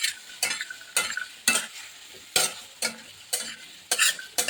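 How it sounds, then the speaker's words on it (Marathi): Cauliflower and peas are stirred into fried masala in a pan, with about ten sharp, regular scraping strokes of a spoon over a low sizzle. "आपण त्याच्यामध्ये टाकूया फ्लावर आणि वाटाणा. हे बघा, छान असं आपल्याला एकजीव करून घ्यायचं आहे."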